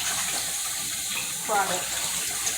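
Tap water running into a pot to fill it for rice while cooking pepper steak, a steady gushing stream with a brief splashing surge midway, a voice speaking briefly over it.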